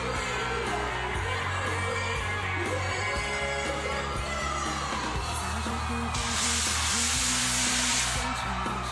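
Filipino fans fill the stands at a FIBA 3x3 World Tour basketball game in Abu Dhabi, their steady, loud crowd roar blending into a dense wash of noise that swells brighter near the end.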